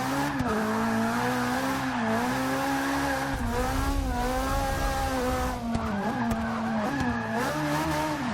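A slammed Ferrari 458 Italia drifting in Forza 6, engine wailing at high revs while its tires squeal in long sustained bursts that rise and fall with the slides, loud and continuous.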